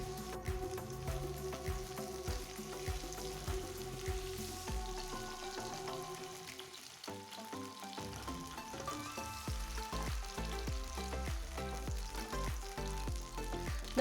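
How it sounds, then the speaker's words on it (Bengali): Pointed gourd pieces fry in hot oil in a kadai, giving a quiet, continuous crackling sizzle broken by the scrapes and knocks of a spatula stirring them around the pan. "এবার পটলটাকে আমি নাড়াচাড়া করে নিলাম"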